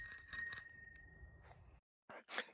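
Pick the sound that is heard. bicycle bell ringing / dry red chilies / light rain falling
bicycle bell ringing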